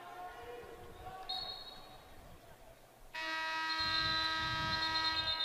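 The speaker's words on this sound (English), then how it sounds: "That loud buzzer was the signal that the period was over." A loud, sustained electronic buzzer ends a college wrestling period, blaring near the end after quieter tones and faint crowd noise from a gym.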